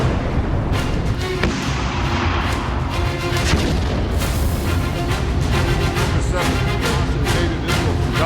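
Heavy explosions from an Israeli bombardment of Hezbollah headquarters, a dense, continuous roar of booms and blasts with repeated sharp bursts throughout, loud and sustained with no clear pauses.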